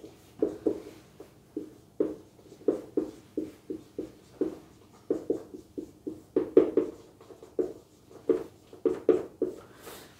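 A pen writes on paper in quick bursts of short scratching strokes with brief pauses between words, close and fairly quiet, with no voices.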